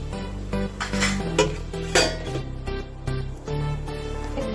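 Colostrum milk with dissolved jaggery is stirred in a pot, with close metallic clinks and scrapes of the spoon against the vessel over a ringing, humming background.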